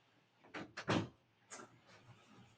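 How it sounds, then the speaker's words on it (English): A door is pulled shut indoors with a few quick, soft knocks and a latch-like click, then a quieter bump. The sound is low in level and has no talk over it. "I'm going to close the door."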